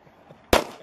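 A single sharp gunshot fired at soft body armor cracks out loud and close after a near-silent lead-in, its sharp blast decaying quickly.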